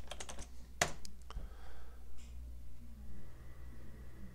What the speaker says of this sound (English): Let's type in update.